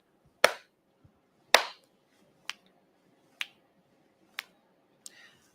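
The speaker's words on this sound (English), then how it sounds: "I'm going to clap and snap a number." Six sharp hand claps and finger snaps ring out one by one with short gaps between them, crisp and close in a quiet room, with a faint tap in the first gap.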